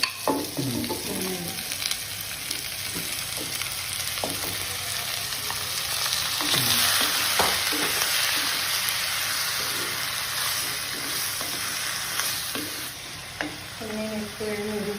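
Shrimp tossed with green chili sizzles steadily in a pan while cooking for a roasted-coconut shrimp curry, with scraping stir strokes and clinks breaking through the continuous close-up hiss.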